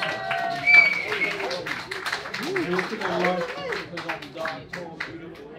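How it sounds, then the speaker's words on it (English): An audience claps and applauds at a live hip-hop show in a bar, with scattered, moderately loud clapping mixed with crowd noise and voices over the top. "Please give him a round of applause."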